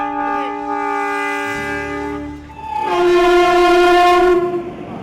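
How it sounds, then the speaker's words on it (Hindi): A passenger train sounds its loud horn in two long, sustained blasts over the low rumble of the train on the tracks, with no talking. "सूनी पड़ी पटरियों पर फिर से चुक चुक गाड़ी दौड़ने जा रही है"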